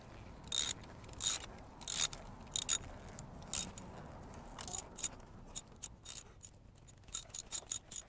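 Ratchet wrench tightening a spark plug on a Honda GoldWing 1800 motorcycle, a close series of sharp clicking bursts in an uneven rhythm that get quicker toward the end.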